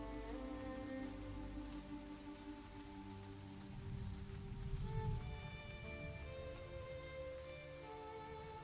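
Steady rain falls across the whole stretch as a dense, even wash of drops on surfaces. It holds at a constant level with a slight swell near the middle, and no voices are present.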